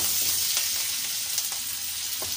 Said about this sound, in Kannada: ಸಾಸಿವೆ ಈರುಳ್ಳಿ ಹಾಕ್ಕೊಂಡಿದ್ದೀನಿ